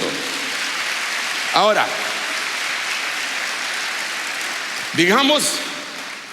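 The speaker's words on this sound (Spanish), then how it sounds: "Denle un aplauso al Rey bendito." Church congregation applause rolls on as a continuous wash of clapping, while a voice cries out twice over it and speaks briefly.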